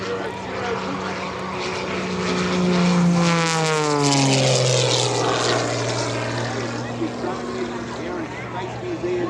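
Wittman Pro aircraft with a 540 EXP engine of just over 400 horsepower, weighing about 900 pounds, flies past at an air show. Its loud propeller drone swells and its pitch falls clearly as it passes, with speech over it.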